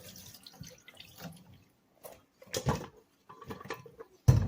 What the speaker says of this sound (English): I'm going to go ahead again and just rinse it off again